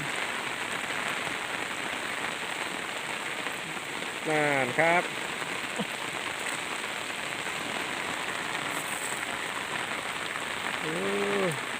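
Steady rainfall patters and hisses throughout, with a couple of brief birdlike chirps or calls rising above it.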